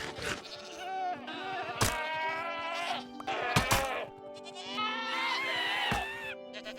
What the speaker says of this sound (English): Then I spent an entire afternoon getting hit by goats, breeding them until I got the screaming ones that hit me even more